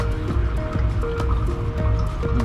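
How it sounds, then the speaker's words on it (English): Water layer drains from a separatory funnel through its open stopcock into a vessel below, a close, steady trickle with gurgling and dripping plinks. "just turn our stopcock here and let the water layer flow out"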